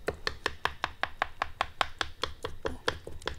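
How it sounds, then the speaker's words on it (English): A sharp three-prong granny fork stabs repeatedly into raw beef for fajitas, giving a quick, even run of about eighteen close, crisp taps with no speech. "the granny fork has 3 prongs on it, so you're getting a lot of holes poked in it"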